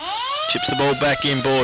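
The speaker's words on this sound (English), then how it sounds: "That is the siren for three-quarter time." A long, steady sports ground siren marking three-quarter time at a North Geelong v East Geelong football match rises and holds over an excited commentator talking quickly, with crowd noise behind.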